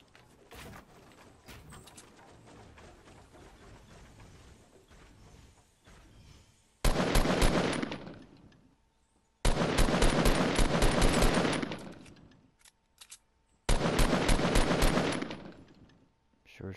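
Fortnite gunfire: three loud, abrupt bursts of rapid automatic shots, each lasting a couple of seconds and separated by short silences, after a quieter stretch of faint ambient game sounds.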